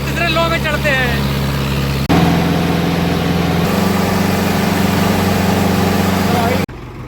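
A tractor engine labours up a steep hill in third high gear, a loud, close, steady diesel drone with a brief voice at the start and a sudden drop-off at the end.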